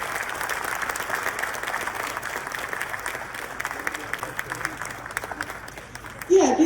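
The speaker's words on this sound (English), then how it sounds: "Give yourselves some applause." Audience applause at a university engineering school's annual honors and awards ceremony, a steady wash of clapping from a large crowd sustained throughout, ending with a louder burst near the close.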